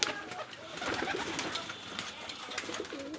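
Rajshahi Giribaz pigeons coo in a cage at a pigeon farm, soft repeated throaty coos rolling close by over a faint background.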